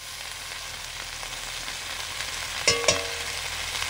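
Onion and ground cumin paste frying in a pan, a fairly quiet steady sizzle with two sharp clatters of a utensil near the end and no voices.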